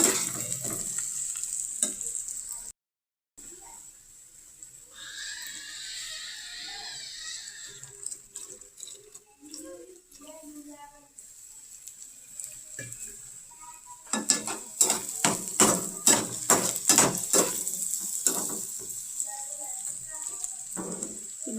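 Onions frying in a pan for a morning routine meal, a steady close sizzle with scraping stirs of a spoon against the metal pan, growing busier toward the end while someone speaks over it.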